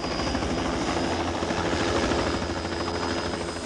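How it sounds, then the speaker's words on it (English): Vietnam War era military helicopter, its rotor beating in a steady loud rumbling wash that continues unbroken throughout. "the sound of the helicopter still evokes memories of a now distant war"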